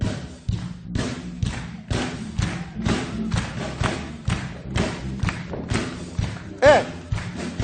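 A man tumbles onto his backside while dancing on a television talk-show stage, producing a series of heavy, rhythmic thuds and bumps up close, with people talking and a studio crowd throughout.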